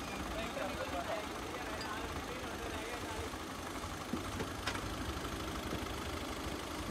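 A tractor stuck in mud idles with a low, steady engine drone throughout, fairly faint under ongoing voices.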